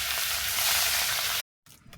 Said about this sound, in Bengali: কড়ার মধ্যে তেল দিয়ে দিয়েছি, তেল গরম হয়ে গেছে, এবার মাছ দিয়ে দেবো।